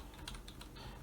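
Quiet typing on a computer keyboard, a quick run of soft clicks and taps close by, with no voices.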